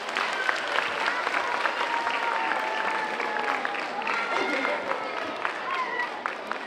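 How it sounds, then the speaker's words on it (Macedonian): Audience applause at an international children's music festival, a dense steady wash of clapping from a crowd that runs loud and continuous throughout. "Ајде аплауз за нашата Сара."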